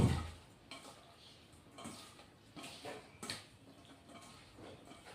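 Ground cumin and Kashmiri chilli powder are sautéed in a pan, with faint, intermittent scraping of a spoon stirring the spices over a low, quiet sizzle.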